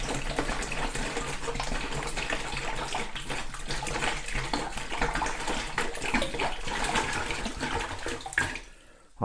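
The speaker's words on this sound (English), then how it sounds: "So I fill this up with spring water." Spring water pouring steadily into a plastic tub, a loud continuous gushing splash that runs for several seconds before cutting off abruptly near the end.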